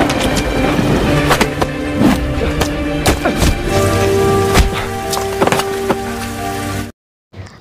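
Heavy rain pours steadily during a fistfight scene in an action film, loud and dense, with scattered thumps and impacts over it before the sound cuts to near silence.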